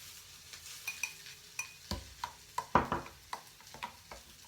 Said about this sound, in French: donc on mélange